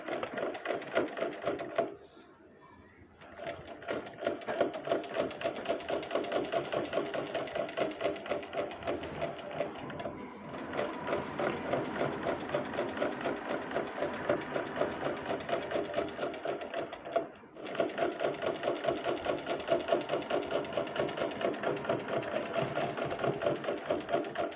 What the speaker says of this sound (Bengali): এখন আমি কাঁধ দুটো সেলাই করে নেব।